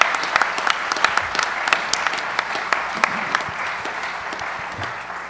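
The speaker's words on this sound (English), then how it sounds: "the architects and landscapes architects deserve a round of applause" A hall audience applauds architects and landscape architects at a design excellence event, a steady, moderately loud patter of many hands with a few sharper individual claps standing out, gradually fading toward the end.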